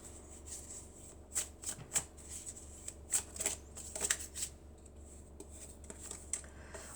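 Tarot cards being shuffled by hand, a series of crisp riffling bursts and soft flicks at close range over a low steady hum, with no talking.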